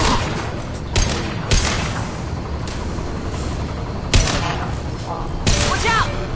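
Video game gunfire in a Mass Effect 2 battle, a dense, loud stream of shots and blasts with several sharper bangs standing out, continuous under game sounds and faint voices.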